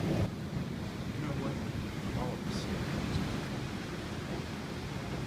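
Steady, broad ocean surf rumbles in the background, a continuous wash of waves with no distinct breaks.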